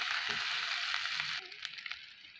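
Onions with ginger-garlic paste fry in a pan as part of a special til and puri recipe, giving a steady, close hiss of sizzling that drops quieter partway through, leaving lighter crackles and small pops.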